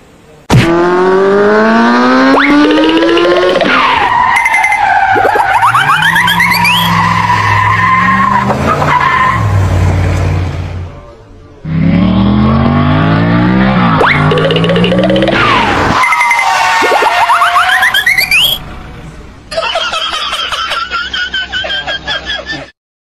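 A car brakes hard with ABS and skids, giving repeated loud tire squeals with rising and falling pitch over several stops, close and alone, with brief pauses between runs.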